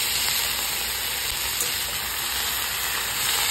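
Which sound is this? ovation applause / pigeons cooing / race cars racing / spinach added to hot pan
spinach added to hot pan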